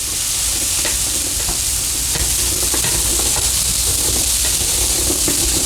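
Garlic cloves, ten to twelve of them, sauté in a pot with a close, constant sizzle and hiss, dotted with light crackles and occasional stirring knocks.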